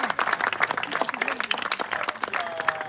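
Dense applause from an audience gathered at a tennis club to honour a volunteer, many hands clapping close by in a steady patter, with a voice briefly heard over it.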